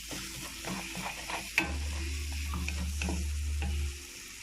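Scrambled eggs sizzle and fry in a pan that sits unsteadily on a meko gas burner, with scraping stirs and small knocks over a steady frying hiss and a low burner hum in the middle stretch.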